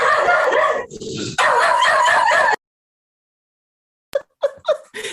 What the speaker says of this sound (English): Just a bunch of dogs.